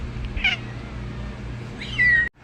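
A cat meows twice up close, a short call followed by a longer drawn-out one, loud and clear against a quiet indoor background before the sound cuts off abruptly.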